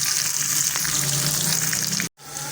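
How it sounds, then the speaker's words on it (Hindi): Okra fries in oil in a pan over a medium flame, a loud continuous close sizzle that cuts out abruptly near the end and then resumes. "भिंडियाँ मैंने डाल दी हैं इसके अंदर ऑयल के अंदर। इनको अब पकने देंगे ज़रा मीडियम फ्लेम के ऊपर"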